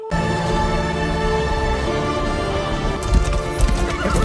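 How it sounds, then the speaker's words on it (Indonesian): Several horses walk along with clear clip-clop hoofbeats and an occasional whinny, all set against a loud, continuous musical score, with no talking. "Rombongan pun bergerak dengan kuda curian."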